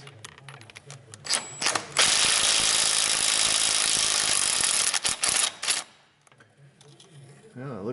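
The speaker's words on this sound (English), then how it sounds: "I'm gonna grab my little cordless impact stick on that" A cordless impact tool hammers away at an exhaust manifold bolt on a Hemi Dodge Ram, with a loud sustained rattling burst of about four seconds and brief short bursts before and after.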